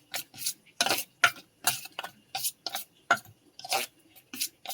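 A spoon scraping and clinking against a bowl while food is mixed with turmeric and chili powder, in quick irregular strokes, close and clear with no talking.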